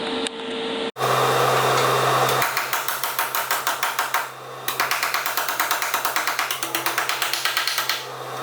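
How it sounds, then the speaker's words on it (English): A hammer shapes a steel repair panel on a car body during rust repair, striking in a fast, even series of close metallic taps over a steady mechanical hum. "Now I'm just gonna, with my hammer, just get that to the right shape so there's no gaps under there."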